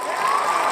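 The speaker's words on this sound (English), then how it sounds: "36-second long cheering audio" Recorded cheering effect triggered by a software plugin during a live stream: a steady wash of crowd cheers and applause at moderate level, with no gaps.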